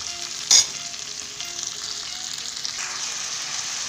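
Potato, pui shak stems and pumpkin sizzle steadily in hot oil in a pan, with one brief louder clatter near the start as the vegetables go in, then a continuous close frying hiss.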